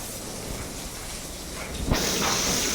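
Water is sprayed onto the wall of a new building as a steady, broad hiss that runs the whole time. It becomes brighter and stronger midway, as if the spray hits the surface more directly, and there is no talking.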